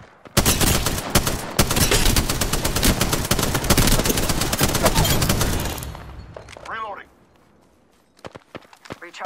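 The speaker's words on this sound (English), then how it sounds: "Getting shot at." Sustained automatic gunfire in Apex Legends pounds loud and dense for several seconds, then cuts off abruptly, leaving faint footsteps and small scattered sounds in near quiet.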